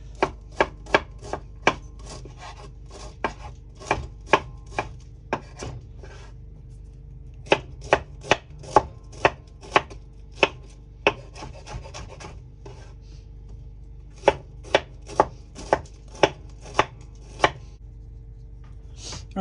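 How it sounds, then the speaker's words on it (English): A knife thinly slicing Brussels sprouts on a board outdoors by a charcoal grill, with rapid crisp chops in quick bursts and short pauses, close and clear. "I'm gonna do a real thin slice here on the Brussels sprouts"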